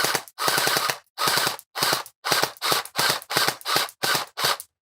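An UnlocX gel blaster fires in bursts, its worm gear feeding rounds up into the blaster, giving about nine loud, close bursts of rapid shots separated by short pauses.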